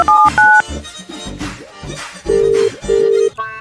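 Rapid keypad tones beep as a mobile phone number is dialed, short electronic bursts of varying pitch, followed by longer repeated ringing tones, loud and close.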